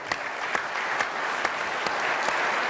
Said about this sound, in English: let's give them a round of applause, folks